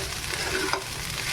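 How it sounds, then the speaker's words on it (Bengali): Cooked rice being stir-fried in a pan for lemon rice, with a close, steady sizzle and the scrape and shuffle of a spatula turning it over, no voices. "ভাতটা দিয়ে আমি ভালো করে ভেজে নিচ্ছি।"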